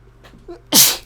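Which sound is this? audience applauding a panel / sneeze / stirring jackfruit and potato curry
sneeze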